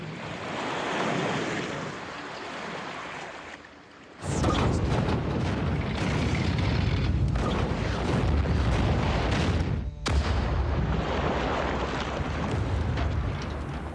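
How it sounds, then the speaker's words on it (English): Deep booming blasts from depth charges exploding over a submarine: a sudden heavy burst around four seconds in, then sustained roaring turbulence, and a second sharp blast near the ten-second mark, no voices. "all hell broke loose as depth charges began to explode above our heads"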